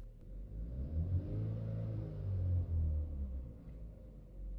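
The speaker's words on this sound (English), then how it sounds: "When I rev up the engine" A Toyota or Lexus car engine revs up, a low rumbling swell that rises and falls twice, close and fairly quiet, with no talking.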